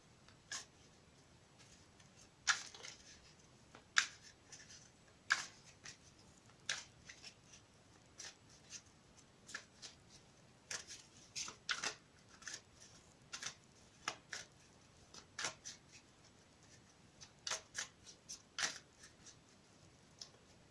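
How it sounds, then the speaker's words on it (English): Soft, scattered clicks and snaps of tarot cards being handled and shuffled, faint and close, in irregular bursts over a quiet background. "I've already shuffled the cards, but I'll shuffle them again for you."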